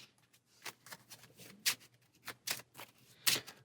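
A deck of cards for the APEX Theropod deck-building board game being shuffled, several quick riffling bursts spaced irregularly at close range, fairly quiet with no talking.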